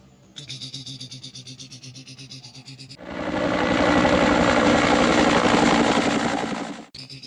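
A toy helicopter's small motor buzzes in a rattling whir, then a louder steady grinding drone kicks in for about four seconds and cuts off abruptly.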